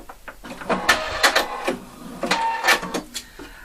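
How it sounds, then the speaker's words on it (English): A sewing machine stitches a jeans button fly in short bursts of rapid clatter separated by pauses, fairly close and moderately loud. "Now I'm stitching here 1 centimetre from the last stitch up here."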